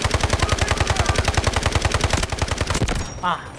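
Automatic gunfire in the video game Delta Force hammers in a long, rapid, evenly spaced burst for about three seconds, loud and dense, then cuts off into a brief mechanical clatter.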